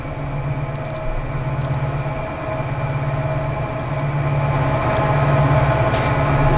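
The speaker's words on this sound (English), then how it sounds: "there's the port sub train right now" A freight train rumbles past in the Run8 train simulator game, a steady low mechanical drone with rolling rhythmic clatter that grows slightly louder toward the end.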